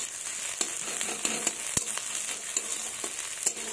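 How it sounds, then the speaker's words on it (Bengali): Onions frying in oil in a pan, a continuous close crackling sizzle punctuated by sharp spatula stirring knocks at irregular intervals, no talking. "তো আমি লাল লাল করে ভেজে নেব পেঁয়াজগুলোকে"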